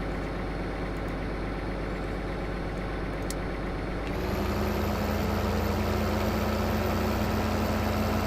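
A tractor engine idles in the Farming Simulator 2015 video game, a steady low rumble that grows louder and fuller partway through and then holds evenly to the end, with no talking.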